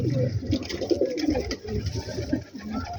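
Highflyer cross-breed pigeons coo close by in a steady, overlapping stream of low, throaty murmurs that swell and dip for a few seconds without pause.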